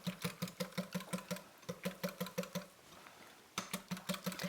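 Seasonings being whisked with oil in a bowl, a rapid, regular clatter of quick whisk strokes, briefly pausing before resuming, close and clear with no speech.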